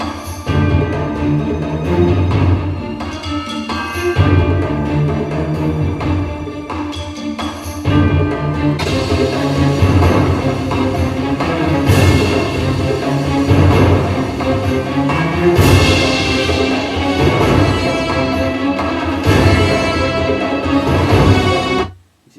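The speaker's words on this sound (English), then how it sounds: "today I was working on percussion" A dense, loud percussion track with steady rhythmic hits and layered instruments, building fuller partway through, with no talking.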